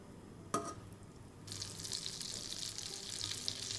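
Butter and a teaspoon of oil heat in a frying pan for a Punjabi cheese butter masala. A sharp clink comes first, then a faint, steady frying hiss begins partway through and keeps going.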